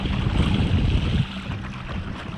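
Watersnake T24 trolling motor pushing a budget kayak on its fast setting into the wind, a steady low drone under heavy wind buffeting and water rush, easing slightly partway through.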